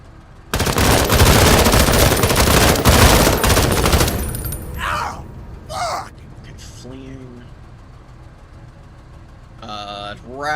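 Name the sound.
gunfire salvo in video game Menace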